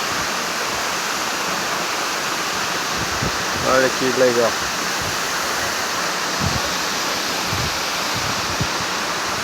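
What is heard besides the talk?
waterfall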